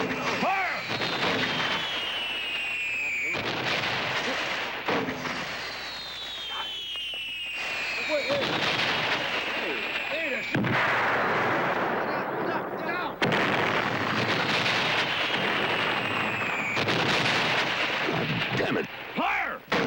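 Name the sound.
gunfire from a group of men firing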